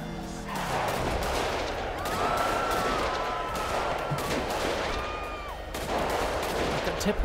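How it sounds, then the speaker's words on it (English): A GTA roleplay police chase brings bursts of gunfire, with rapid shots over a busy mix of traffic noise and wailing, siren-like tones. "210 shots fired, Pyrite and Polito"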